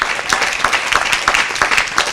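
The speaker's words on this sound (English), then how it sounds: "So let's give Kristen a round of applause" An audience at an academic symposium applauds for Kristen, one of its organizers, with dense, steady clapping that stays loud and close throughout, no voices rising above it.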